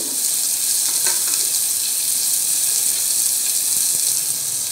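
Carrot and pointed gourd fry in a pan with a loud, continuous hiss and sizzle, broken by a few faint stirring clicks.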